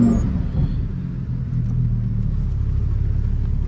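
Lamborghini Huracan STO engine starting up and settling into a loud, deep rumbling idle, heard close with a steady low-frequency roar.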